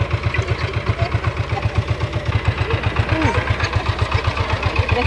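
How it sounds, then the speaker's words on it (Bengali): Motorized engine van carrying passengers on a village road near the India–Bangladesh border at Taki, its small engine chugging in a fast, steady putter close by, with faint background noise around it. "এই যে আমরা ইঞ্জিন ভ্যানে আসলাম"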